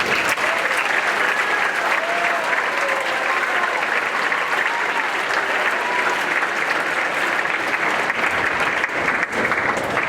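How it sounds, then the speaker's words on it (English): Applause fills the hall at a 2018 senior awards ceremony as honorees are recognized, a broad, even wash of many hands clapping that runs unbroken for about ten seconds. "Let's give those folks a big applause."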